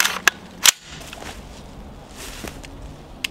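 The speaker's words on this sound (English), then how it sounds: "Let's take a few shots with this one." Sharp gunshots from an AR-15 pistol with a standard flash hider ring out outdoors near a runoff pond, a few separate cracks spaced irregularly over light background noise.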